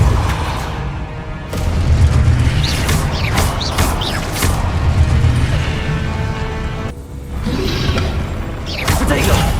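A spell is cast in the Hogwarts Legacy video game, with whooshing bursts and heavy magical impacts layered over a constant rumbling soundtrack, loud and dense throughout.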